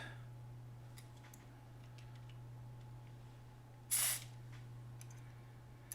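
A brief hissing burst of aerosol spray into a cassette recorder, about a quarter second long, over a quiet steady hum.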